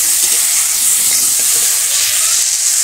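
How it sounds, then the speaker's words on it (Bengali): Ginger, cumin and chili are sautéed in hot oil for a katla fish and potato curry in a village kitchen, a loud, constant close-up sizzle and hiss with faint stirring. "মশলাটা দিয়ে দিলাম, দিয়ে এখন এটা কষাবো।"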